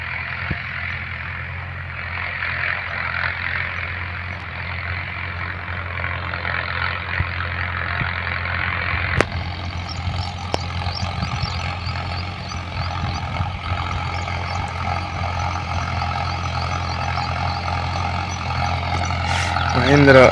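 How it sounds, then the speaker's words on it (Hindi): A Mahindra Arjun 9605 tractor runs steadily in a field during maize sowing, its low engine drone continuous and fairly near, with a voice talking over it throughout. "इधर चल रहा है अपना ट्रैक्टर, अभी गया है उधर वापस लौटेगा।"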